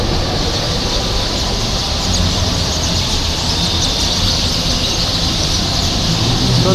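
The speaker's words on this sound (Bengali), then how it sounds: "অসংখ্য পাখি হওয়ার কারণে এদের কিচিরমিচির শব্দে প্রতিটা দর্শনার্থী" A dense flock of birds chirps and squeals without pause in trees outside a shopping mall at dusk, a loud, steady wall of overlapping calls with no talking.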